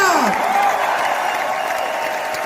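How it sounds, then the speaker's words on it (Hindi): Applause from a crowd, a steady wash of clapping with a voice trailing off at the start, fairly loud throughout. "एक बार जोरदार तालियां"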